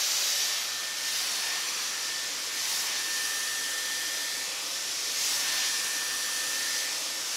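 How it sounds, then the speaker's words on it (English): A Dyson Airwrap fitted with its brush attachment blows air through hair in a steady, loud, unbroken rush of airflow, running for several seconds with no speech. "I do want to dry some of it first. So I'm gonna actually use the brush attachment."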